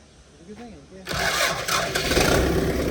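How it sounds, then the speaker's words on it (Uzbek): A Belarus 80X tractor engine cranks and catches after about a second, settling into a loud, steady rumbling run that continues to the end, close by. "Hozirgi holatda bu texnikamizni yurgizib sizlarga ko'rsatib beramiz"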